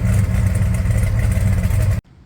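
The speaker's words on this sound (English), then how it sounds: "Exhaust comes through the TTI Headers and Dynamax turbo mufflers. Sounds pretty good." A 1970 Plymouth GTX exhaust flowing through TTI headers and Dynamax turbo mufflers rumbles loud and close with a deep, steady engine note for about two seconds, then cuts off abruptly to near silence.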